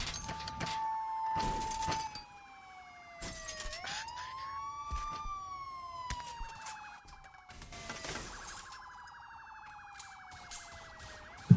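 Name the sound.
police car sirens in a video game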